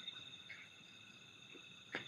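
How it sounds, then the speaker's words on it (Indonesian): Faint, high, steady cricket chirring hangs in the background, quiet and continuous with a few soft clicks. "gue dengar suara jangkrik"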